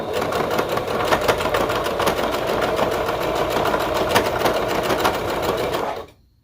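A sewing machine base stitches a leotard sleeve in one steady, loud mechanical whir with rapid needle clatter, running continuously for several seconds and then stopping abruptly, with no talk.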